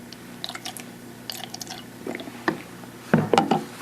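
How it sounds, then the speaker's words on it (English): pH and ORP probes of a Hanna Instruments HI 2211 benchtop meter are rinsed with deionized water, giving faint, close, intermittent trickles, drips and small splashes with no talk. "We rinse them off with deionized water"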